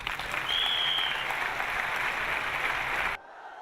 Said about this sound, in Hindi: हमारी वाइफ के लिए जोरदार तालियां हो